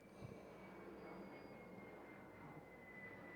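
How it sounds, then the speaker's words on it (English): A distant airplane passing overhead as a faint, steady engine drone with a thin high whine, heard alone at low level. "That's an airplane passing by."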